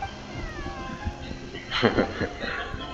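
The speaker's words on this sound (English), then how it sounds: "Meow. Meow. Kêu mèo luôn." Thin, high kitten meows in Genshin Impact, a couple of short cries over soft background sounds, with a person speaking briefly in the middle.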